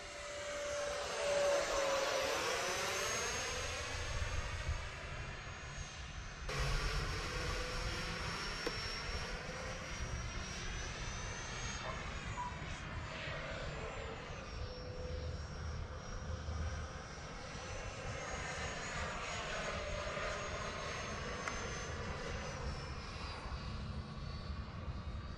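An FMS Rafale 64mm EDF model jet flies past outdoors on a grass field, its ducted fan whine rising and falling in pitch with Doppler sweeps as it makes repeated passes, moderately distant and continuous throughout.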